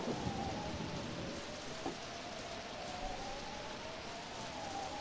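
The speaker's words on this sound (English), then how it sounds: "The storm is causing the ground to shake." Steady rain with a low rumble of thunder from a stormy mountain scene in the game Pokemon Mystery Dungeon Explorers of Sky, a constant even wash of rainfall with a faint tone underneath and no talking.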